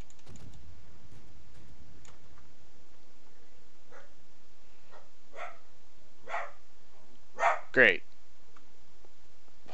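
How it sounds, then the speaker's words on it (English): A dog barks indoors in the background during an online World of Warships game session, a few short barks building to two louder ones near the end over faint keyboard typing and quiet room noise. "apologize for the dog."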